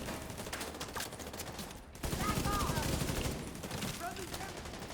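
Rapid gunfire in a video game as lamps are shot out, a dense steady rattle of shots that grows louder partway through, with voices talking under it.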